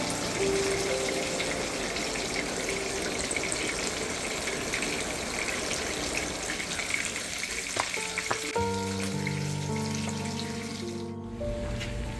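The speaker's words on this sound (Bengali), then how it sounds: "চলুন এখন মাছগুলোকেও কড়াইতে দিয়ে একটু ভেজে নিই" Pabda fish fry in hot oil in a kadai in a home kitchen. A steady, close sizzle runs throughout, and near the end a faint tonal hum and some clinks join it.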